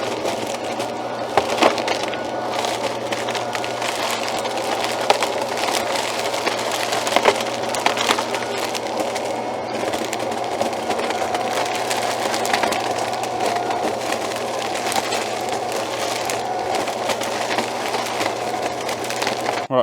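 Stihl SHA140 leaf vacuum sucking up and shredding big sticks, a steady loud motor whine with sharp cracking and splintering bursts as the wood is chewed through, running continuously throughout.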